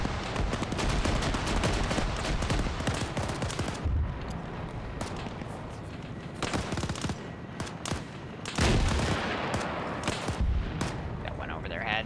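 Enemy troops fire in a military video game with dense volleys of gunfire and scattered distant blasts, while voices talk over the shooting at times.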